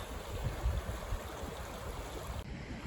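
Mountain stream flowing out of a small lake along a high-country trail, a continuous rushing wash with low rumble, steady and moderately near, with no talk.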